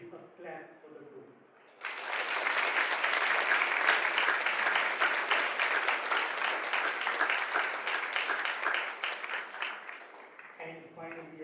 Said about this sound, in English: I want you to give a clap for the group.